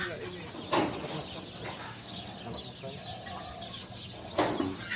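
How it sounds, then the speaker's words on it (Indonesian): Arabian chickens clucking in a pen in Saudi Arabia, their calls mixed with background talk, with two louder squawks standing out near the start and end. "Ayam Arab."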